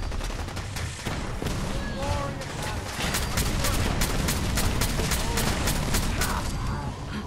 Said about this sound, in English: There's a lot of explosives, or explosions going on around here.